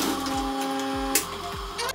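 A sewing machine stitches a seam on jogger pants fabric, its motor giving a steady, close whine with a few soft mechanical knocks, running continuously without talk.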